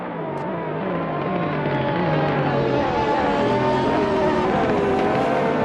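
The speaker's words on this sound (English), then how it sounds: "the looming Ferrari that is sitting behind him, as it has a very distinct sound that pierces your eardrums and drives you crazy" A Ferrari GT3 race car engine screams in a racing video game at Donington, a loud sustained high-pitched drone with shifting harmonics, steady throughout and alone without talk.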